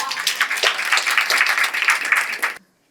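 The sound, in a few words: conference audience round of applause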